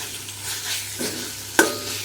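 Rooster curry with bay leaf and cinnamon being stirred in a pan, a soft sizzle with light scraping and one sharp clink of a spoon against the metal, close and without talk.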